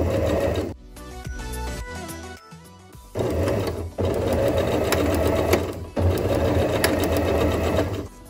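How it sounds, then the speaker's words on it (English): Close up, a sewing machine hums steadily while stitching down the side of a hem on a small doll crop top. Several long runs are broken by brief pauses with lighter handling noises. "And then I just stitch down this side."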